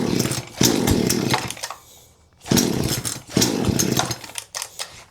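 A long-unused chainsaw, running again on fresh gas, revs loudly in repeated bursts, dropping briefly toward idle between throttle blips, close by and alone.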